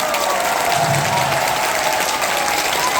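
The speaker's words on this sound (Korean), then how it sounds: "이럴 때 박수 치시는 분은 센스가 있고" A fan meeting crowd applauds, producing a loud, continuous wash of clapping that holds steady throughout.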